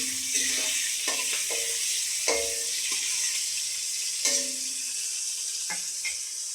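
Onion and capsicum sizzle steadily as they fry in a pan for egg chilli, with several sharp scraping clicks from a spatula stirring the vegetables, heard close and without any talking.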